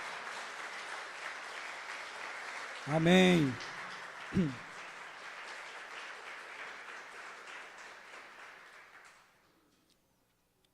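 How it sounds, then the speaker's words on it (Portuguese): A Sunday morning church congregation claps in steady, even applause that fills the room for several seconds before fading away, with a voice briefly calling out over the clapping. "Então dá uma salva de palmas para Jesus aí bem forte."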